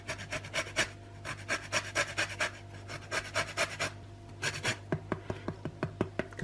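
A lemon being zested, a rapid series of rough rasping strokes close up, steady at first and then slower and spaced out toward the end, with no talking.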